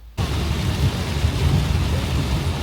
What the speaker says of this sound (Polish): Deszczyk, deszczyk i jeszcze raz deszczyk.